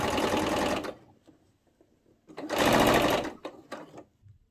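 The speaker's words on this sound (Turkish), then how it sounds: "Bir dikiş daha gidiyorum." A sewing machine stitches a cotton jersey top in two loud bursts of rapid running, the first about a second long and the second shorter, separated by a quiet pause with faint handling noises.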